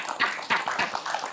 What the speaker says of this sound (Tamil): கைத்தட்டல் கொடுங்களேன்.